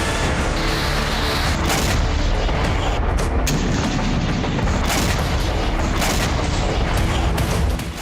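Rocket fire and explosions near the Israeli border, a dense, loud barrage of booms and crackling blasts that rolls on almost without pause.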